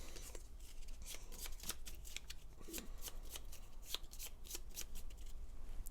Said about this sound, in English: I forgot to shuffle this one.